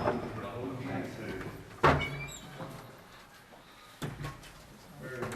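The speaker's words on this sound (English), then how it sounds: "The door won't stay open by itself." A door in the old Gladstone Gaol in South Australia swings shut on its own, landing as one sharp, nearby thump with a fainter knock a couple of seconds later, while people talk quietly around it.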